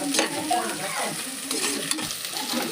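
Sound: frying food in oil

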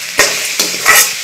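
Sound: stirring chili powder into frying masala

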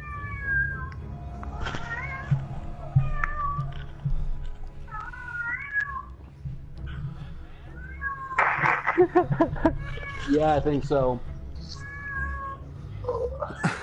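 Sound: cat meowing, wanting to go outside

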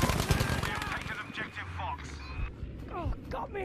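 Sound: gunfire in the video game Battlefield 5

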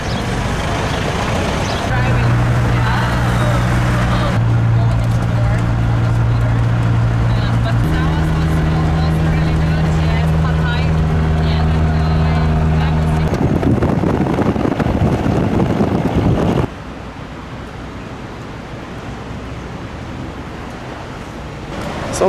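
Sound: songthaew shared taxi truck driving from Chiang Mai to Chiang Rai

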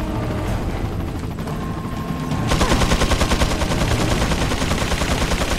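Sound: helicopter machine gun fire, video game Resident Evil 4

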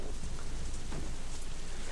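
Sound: rain in video game DeadLight

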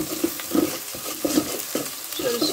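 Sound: onions frying in mustard oil

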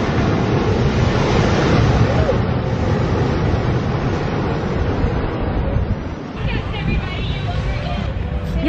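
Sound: ocean waves at the beach front

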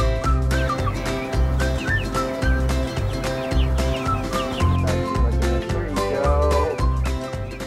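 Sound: chickens vocalizing

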